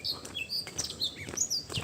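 A nightingale sings outdoors in quick, bright chirps and whistled notes, several short phrases in succession, faint and somewhat distant with no talk over it.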